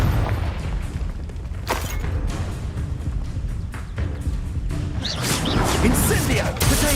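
Confringo fire spell explosions in Hogwarts Legacy combat: repeated booming blasts and crashes swell over dense game noise, with a person talking over the action.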